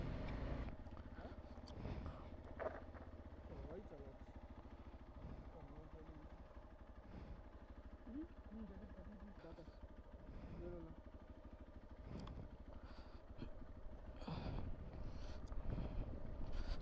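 A motorcycle engine idles steadily after being started on a Sikkim mountain ride near a homestay, a low continuous rumble partly buried under wind buffeting the microphone, with voices talking over it.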